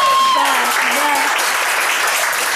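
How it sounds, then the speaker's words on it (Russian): Studio audience applause during a televised cooking show, a loud dense wash of clapping that holds steady throughout while voices call out over it. "здесь должны быть аплодисменты."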